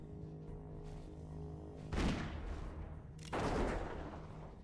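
Video game gunfire in a classic MMO sounds as two heavy, noisy blasts about a second apart over a quiet background hum.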